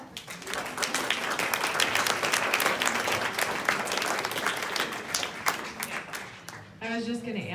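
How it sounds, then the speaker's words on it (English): A live audience at a community panel discussion on homelessness in Becker County gives the panelists a sustained round of applause, dense steady clapping from many hands that fills the room for most of the stretch and then stops abruptly near the end. "So please give the panelists a nice round of applause."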